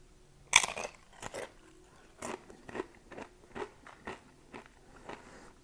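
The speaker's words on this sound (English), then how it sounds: "I like these chips. They hold a lot. They got a nice crunch to them. They're a thick chip." Thick tortilla chips bitten and crunched at close range, one sharp initial bite followed by a series of rhythmic chewing crunches that fade and recur, with no talking.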